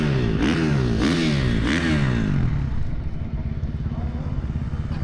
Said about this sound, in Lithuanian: automobilis bei motociklas startuoja vienas šalia kito